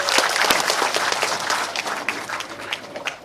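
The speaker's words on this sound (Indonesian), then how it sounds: "Bu Evi, boleh tepuk tangan untuk beliau." Applause from a crowd, steady clapping of many hands filling the room, moderately loud and continuous.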